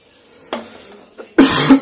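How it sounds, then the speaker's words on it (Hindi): A person coughs several times up close: a short cough, a small throaty catch, then a louder, harsher double cough, with no speech. "अभी भी थोड़ी सी खांसी है मेरे को"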